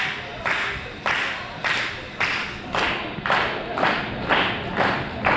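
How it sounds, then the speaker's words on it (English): A wrestling crowd claps in unison, about ten loud rhythmic beats roughly every half second, with cheering mixed into the steady beat. "Crowd getting into it."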